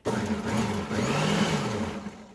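A blender pulsing onions and tomatoes for a sauce, one loud close burst of motor whir lasting about two seconds, straining slightly as it chops.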